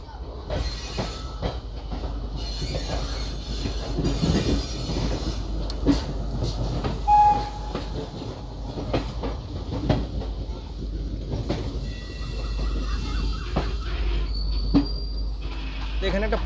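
Howrah–Pune Azad Hind Express train running on South Eastern Railway track, a steady rumble of wheels and carriages with rhythmic clicks from rail joints, brief squeals and occasional faint voices underneath.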